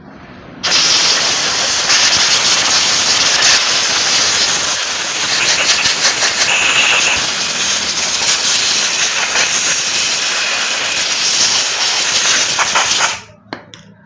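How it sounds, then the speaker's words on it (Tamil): Wurth injector and carburetor cleaner sprayed from an aerosol can: one loud, steady hiss that runs unbroken for about twelve seconds with nothing else over it, then cuts off sharply. "இந்த ஸ்ப்ரேவை தான் அடித்தோம்"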